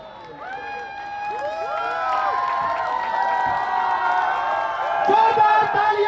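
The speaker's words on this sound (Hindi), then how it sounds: "जोरदार तालियां" A crowd at a political rally in Tapukra for Chandrashekhar Azad and Hanuman Beniwal cheers and whoops, with many overlapping voices rising and falling and some clapping, growing louder toward the end.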